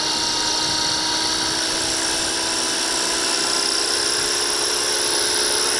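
Walkera V450D01 RC helicopter rotor spinning steadily at zero pitch after blade replacement, a continuous high whine with a broad whirring hiss, close and loud throughout with no talk.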